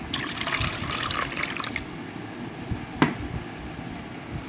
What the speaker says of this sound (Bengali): এখন এইটাতে আমি একটুখানি জল মিশিয়ে দেব